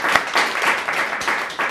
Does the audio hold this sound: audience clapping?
yes